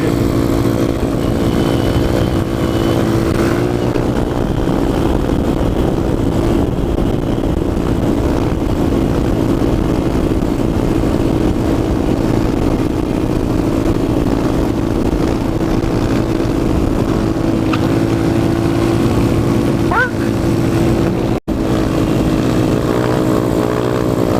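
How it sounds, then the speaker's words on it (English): A motorcycle riding at night for a wheelie, its engine a loud, steady, close drone that holds unbroken throughout, with a brief dip near the end. "Time for a dark wheelie."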